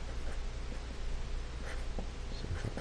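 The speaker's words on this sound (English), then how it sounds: "And I'm just going to quickly write it." Someone writes out the answer to a compound circuit physics problem, producing quiet, continuous scratchy strokes close up with a few brief taps, and no one speaks.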